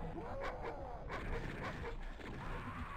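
A dog in the Doom II RAMP mod gives several short barks and yips amid ongoing game noise, moderately loud and repeated in quick succession.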